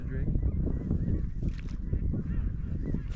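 Ducks calling over a flooded bean field in North Dakota, a continuous chorus of honks and quacks from many birds at a fair distance, with wind noise underneath.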